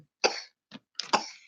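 A young girl coughing, with a few short, dry coughs in quick succession, heard close up in a quiet room.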